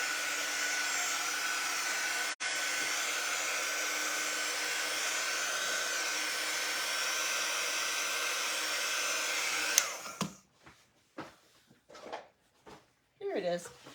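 A hair dryer drying a silkscreen transfer on a notebook runs as a loud, steady whir for about ten seconds, then cuts off abruptly, leaving brief handling noises and faint sounds.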